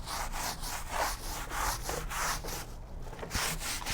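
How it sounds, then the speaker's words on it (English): A stiff bristle brush scrubs grime off a muddy overlanding tire, rhythmic rasping strokes repeating about twice per second, close and fairly loud, with a brief pause near the three-second mark. "I'm going to go ahead and scrub it down and get all this grime off"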